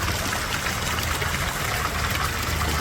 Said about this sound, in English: A little water, a little river, or creek that runs